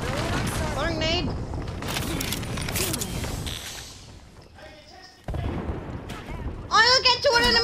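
Sporadic gunfire and explosive thumps from the battle royale game Apex Legends, including shots from a Mastiff shotgun and a thrown grenade, rattle in bursts under constant team chatter.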